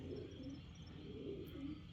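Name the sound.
racing pigeon cooing in the loft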